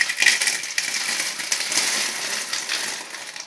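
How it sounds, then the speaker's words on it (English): Lightweight expanded clay aggregate pebbles tip slowly into a plant pot for potting aroids, making a steady dense rattling and crunching cascade, loud and close throughout. "I'll slowly tip the Leca in, so excuse the noise."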